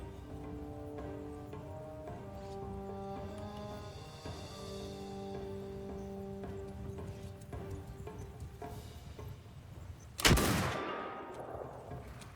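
One loud gunshot from a firearm in the video game Mount & Blade II: Bannerlord cracks sharply and rings out into a decaying echo, preceded by quieter game music and ambience.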